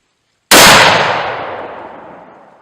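A single loud, close rifle shot from a SAKO 75 in .243 cracks sharply after a brief silence, then its echo decays slowly over about two seconds.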